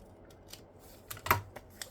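Scissors snipping paper to trim a layered craft tag, a few close, crisp cuts with one sharper snip standing out amid soft handling sounds.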